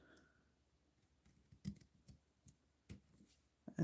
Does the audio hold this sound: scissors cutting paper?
yes